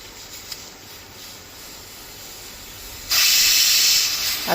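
A pressure cooker cooking vegetables with carrots lets out its whistle in a kitchen: a quiet stretch followed by a sudden loud, sustained hissing steam blast that runs to the end.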